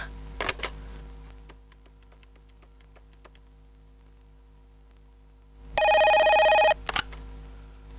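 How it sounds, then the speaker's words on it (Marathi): A telephone rings late at night in a quiet indoor scene: one loud burst of electronic ringing about a second long, heard alone after several seconds of near silence and low hum. "किरण, एवढ्या रात्री फोन केलास तू?"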